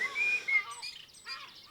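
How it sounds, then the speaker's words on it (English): Lesser black-backed gulls call while flying over from the coast, a few clear, fairly loud cries in close succession with no talk. "Lots of lesser black-backed gulls flying over from the coast"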